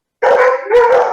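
A pet dog gives a loud, close, drawn-out howling bark in two connected bursts, pitched and whining as if pleading for attention, with no talk over it.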